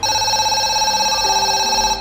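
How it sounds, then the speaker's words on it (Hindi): An old telephone booth rings in a steady, continuous electronic tone, loud and close, with no pauses and no voices. "एक पुराना टेलीफोन बूथ खड़ा था जो हर रात अपने आप बजने लगता था।"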